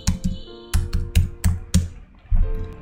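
Typing an email address and password on a computer keyboard, a close, crisp run of key taps in uneven bursts with short pauses between them.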